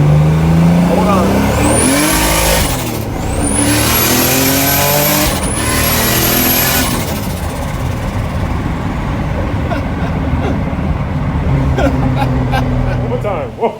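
A Toyota MR2 engine revs hard several times, loud and close, with rising sweeps and a rough, rumbling idle between them as someone talks over it.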